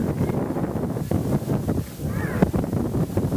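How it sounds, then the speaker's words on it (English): Wind buffeting the microphone outdoors at a 1976 high school football game, a constant rough rumble that stays loud throughout, with faint voices mixed in. "that wind seems to be picking up just a little bit out here"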